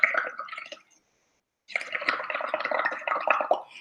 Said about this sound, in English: Here is where we're going to add the bubbles, and we're going to do that by blowing.